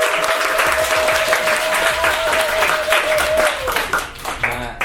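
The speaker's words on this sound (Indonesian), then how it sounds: "Tepuk tangan dulu." Applause from a crowd celebrating the finish of a talk-show segment, steady dense clapping throughout with a sustained tone running beneath, fading slightly near the end.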